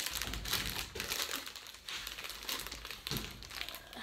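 Two bags of popped veggie snacks are crinkled up close, the plastic rustling loudly and steadily in repeated surges with no one talking.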